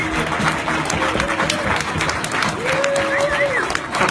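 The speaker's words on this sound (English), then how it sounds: "standing ovation" A crowd gives a standing ovation to the CEO of DasCoin at a blockchain launch event, with dense, sustained clapping and cheering throughout. A voice speaks over the applause.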